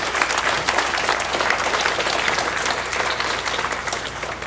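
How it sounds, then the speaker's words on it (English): Loud, full applause from a crowd, rapid overlapping claps filling the space continuously without any talking. "Special thank you to them, and a round of applause."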